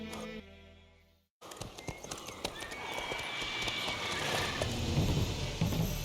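Roach, a horse in The Witcher 3: Wild Hunt, trots with a steady clip-clop of hooves after a brief hush, under continuous game ambience and music, with no clear neigh standing out.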